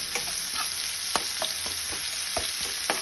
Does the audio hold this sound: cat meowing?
no